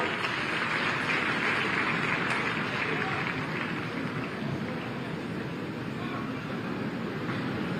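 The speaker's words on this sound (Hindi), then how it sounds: "इनको मैं चाहूंगी कि जोरदार तालियां आप सभी बजाएं।" Loud, dense clapping from a large crowd at a government ceremony in Maharajganj, Uttar Pradesh, sustained steadily throughout as funding recipients are honored.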